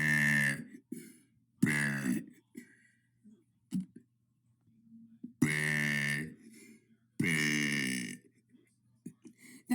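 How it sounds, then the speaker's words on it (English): A man burps loudly and close up, four long croaking belches spaced across a few seconds, with a couple of shorter grunting burps and quiet gaps between them. "That was day 8 of burping for 100 days."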